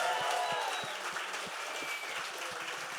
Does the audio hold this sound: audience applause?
yes